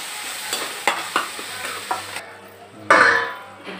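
Tomato masala being fried in a kadhai while a spatula scrapes and taps the pan repeatedly, a steady close sizzle beneath, with a louder burst of frying near the end.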